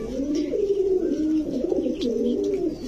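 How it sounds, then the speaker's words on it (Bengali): A pigeon coos continuously and loudly close by in a rolling, warbling drone, with faint rustling and background noise underneath. "কবুতরটা ছাড়ার সাথে সাথে কি পরিমাণ ভাইব্রেশন করতেছে, জাস্ট সাউন্ডটা খেয়াল করেন"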